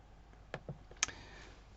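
A few sharp plastic calculator key presses, two or three isolated clicks close up in a quiet room, with no talking.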